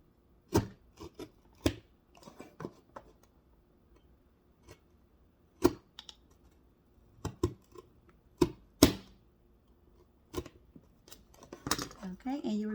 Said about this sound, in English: I'm going to use this box cutter here, and I'm just going to go down the line of each side, and I'm going to cut that off